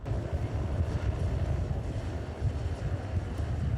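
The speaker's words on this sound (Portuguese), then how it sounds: "o helicóptero passando" A helicopter passes over ships on the Rio Negro, heard as a continuous low rumbling engine drone mixed with wind noise, steady and moderately loud throughout.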